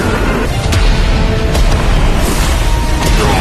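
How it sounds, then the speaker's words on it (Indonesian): A loud, sustained rumbling boom fills the space, dense and heavy, like a massive explosion rolling on without pause. "Ledakan dahsyat mengguncang langit dan bumi"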